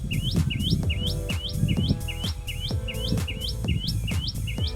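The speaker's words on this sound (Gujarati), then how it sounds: "જો ભાઈ પક્ષી એક અવાજ કરી રહ્યું છે" A bird chirps repeatedly in a steady, regular rhythm, the same rising call about a dozen times, close and clear over low background noise.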